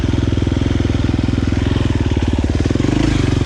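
A KTM 350 XC-F dirt bike with a tuned ECU running while being ridden, its single-cylinder engine thumping in a rapid steady pulse up close, loud and rising slightly near the end.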